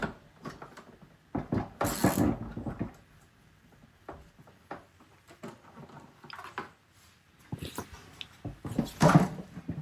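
Retaining bolts on the split tub of an LG washing machine are undone one after another with a ratcheting tool, producing short bursts of clicking and rattling separated by quiet pauses, close and moderately loud.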